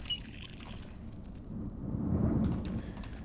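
Stormy ambience in a lightning-filled area of the dungeon game Legend of Grimrock: a low, rolling rumble of thunder with a rain-like hiss, swelling slightly in the middle and fading, steady and fairly faint.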